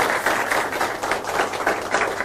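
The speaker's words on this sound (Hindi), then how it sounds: "तो आप सबके लिए भी ढेर सारी तालियां।" A young studio audience claps in a steady, even patter of applause, moderately loud and continuous for a couple of seconds with no voices over it.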